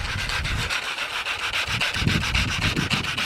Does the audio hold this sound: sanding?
yes